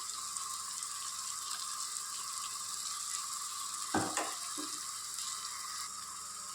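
Ground masala powder is sautéed in a pan, a soft steady sizzle carrying on throughout with a couple of brief scraping stirs near the middle.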